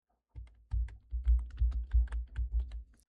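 Typing on a computer keyboard, a steady run of close, crisp key clicks in quick uneven bursts with short pauses, no voices.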